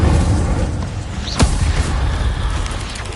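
A fiery Incendio spell goes off in the Hogwarts Legacy video game, a dense roaring burst of flame with a sharp crackling snap in the middle over continuous rumbling game noise.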